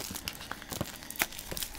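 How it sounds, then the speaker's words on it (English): Cardboard and plastic packaging of a Nook GlowLight e-reader box being torn open, giving close crinkling and ripping bursts with several sharp tears in quick succession. "Gonna crack this open. Or tear this open, I suppose."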